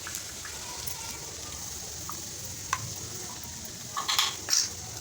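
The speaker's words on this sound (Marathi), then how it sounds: "ह्याला ना लसणाला व्यवस्थित थोडंसं फ्राय होऊन द्यायचं" Garlic sizzles softly in hot oil over a high gas flame, a steady quiet crackle with a few clinks of stirring toward the end.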